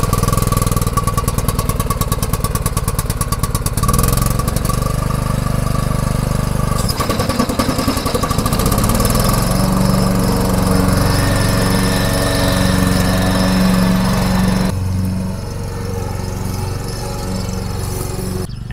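Lawn mower cutting garden grass in spring, its engine droning loud and steady close by throughout, with a rough rattling stretch early on and a slight drop in level near the end.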